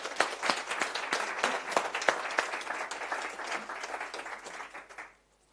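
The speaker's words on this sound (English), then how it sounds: "Great, let's give him a round of applause." An audience at a London GRC roadshow applauds a speaker, a steady round of clapping with crisp individual claps up close, fading out abruptly into quiet at the end.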